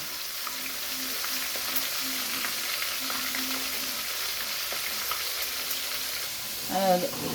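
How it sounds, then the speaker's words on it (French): Fish fries in hot oil, a continuous close sizzle holding steady throughout, with faint clinks of kitchen utensils and a brief splash of water near the end. "Voilà, nous allons frire notre poisson."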